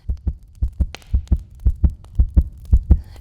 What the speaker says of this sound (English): But the beating grew louder, louder. I thought the heart must burst.